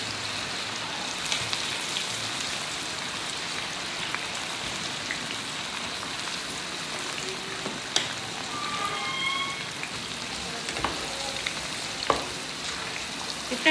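Potato fries dropped into very hot oil for Burns Road style matka fries, sizzling in a dense, steady crackle that runs unbroken throughout, with faint clinks of stirring and no voices.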